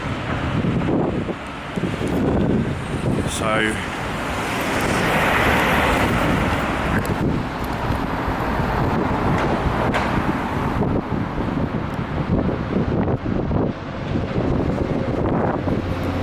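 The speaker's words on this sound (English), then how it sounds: "and it's really windy." Strong wind buffets and roars across a London street, a loud, continuous blustery rumble with gusts rising and falling, along with faint passing traffic and a brief spoken word.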